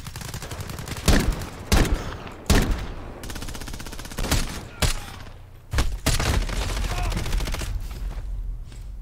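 Gunfire in Call of Duty: Modern Warfare: a run of sharp, loud single shots and short bursts at irregular intervals, with a busy background between them.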